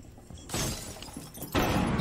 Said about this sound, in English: I just heard the glass break too.